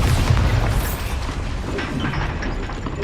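A dense, loud, rumbling blast from the Bombarda spell in Hogwarts Legacy fills the moment, a sustained booming roar with crackling debris throughout, heavy low end and no pause.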